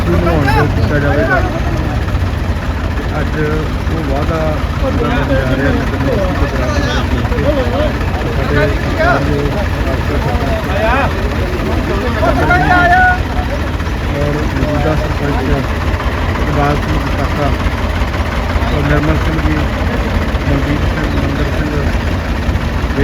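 Tractors idle at a village pond clean-up in Dhulkot, Punjab, giving a steady, loud low engine rumble that runs unbroken throughout, with people talking over it.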